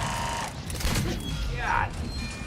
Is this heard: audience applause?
no